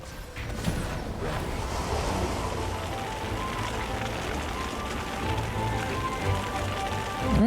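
Steady rain hiss from a storm in the video game Divinity Original Sin 2, a dense constant patter of drops that stays moderately quiet throughout with faint game noises mixed in.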